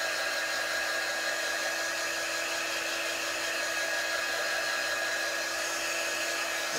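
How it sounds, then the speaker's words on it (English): A hair dryer blows in a steady, even whoosh for several seconds, close and continuous with no talking. "zap with my dryer."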